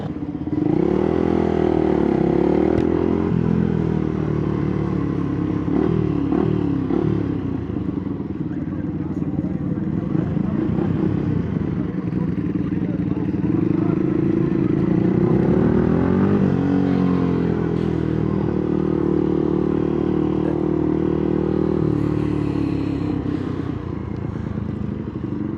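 A rare motorcycle rides past with a loud, continuous engine drone that rises and dips with revving, while voices are heard over it.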